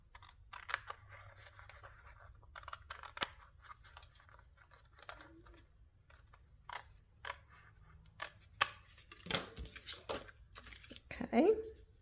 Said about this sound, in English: I'm just going to use my scissors to trim off,